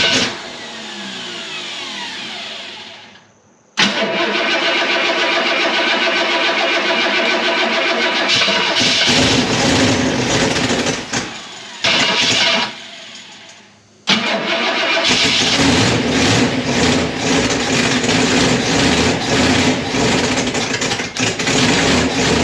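A 1962 Ford Thunderbird 428, forgotten and unstarted for over 24 years, cranks and catches, then runs loud and rough with revving surges and a couple of brief cutouts before roaring steadily again, close by.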